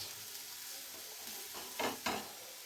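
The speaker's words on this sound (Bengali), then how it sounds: "সবজিগুলো কিছুটা ভাজা ভাজা হয়ে গেছে" Onion and mixed vegetables stir-fry in a pan for veg chow mein, a faint, steady sizzle broken by two short scraping stirs near the end.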